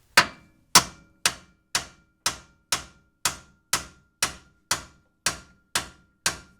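Twelve evenly spaced, sharp metallic hammer blows on a stuck front-end control arm of a second-generation F-Body car, loud and close with quick decays and nothing between strikes.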